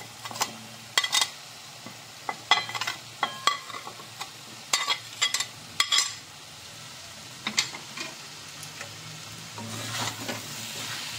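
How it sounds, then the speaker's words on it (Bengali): Fried potatoes and young jackfruit with shrimp are stir-fried in spiced masala, with a steady sizzle under repeated close scrapes and clinks of the spatula against the pan. "এবার একটুখানি আর একটু কষিয়ে নেব ভালো করে।"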